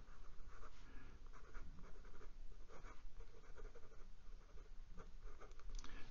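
A Wing Sung 601 fountain pen with a stiff, smooth steel fude nib scratching across paper, producing close, continuous soft scraping strokes with small taps and pauses between letters, no voice present.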